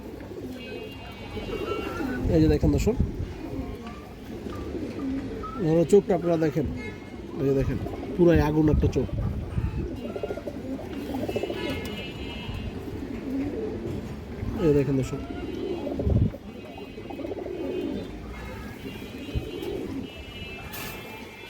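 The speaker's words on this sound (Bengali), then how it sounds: "এই দেখেন দর্শক কাজলাপুট্টির লাল খাকি নর কবুতর।" Pigeons, among them a red khaki male Kajlaputti, coo softly and repeatedly beneath someone talking almost without pause.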